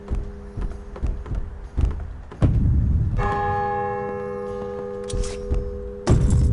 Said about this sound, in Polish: Biją dzwony.